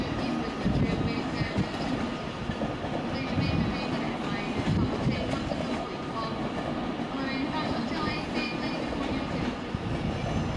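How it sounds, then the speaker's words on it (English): British Rail Class 319 electric unit 319 130 rolling into a Manchester station from London Euston, a steady loud rumble of wheels and carriages with faint clatter, close by and continuous throughout, with some indistinct voices in the background. "Meanwhile, 319 130 is just arriving in from London Euston."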